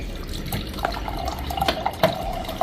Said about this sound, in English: Remember, you gotta drain your water too.